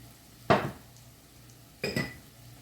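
A metal lid set down on a frying pan of onions cooking with salt for a prawn curry, two close clanks about a second apart over a faint background hiss.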